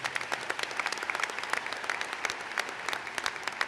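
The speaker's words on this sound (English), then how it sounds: "let's just give a round of applause for everybody" Graduation audience at the 2018 Northwestern University School of Professional Studies convocation, a large hall full of people clapping in a steady, even roar of applause with no cheering or talk.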